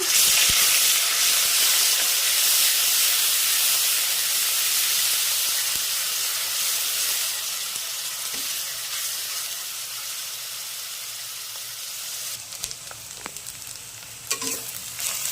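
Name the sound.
black cumin, green chili and onion paste sizzling in hot oil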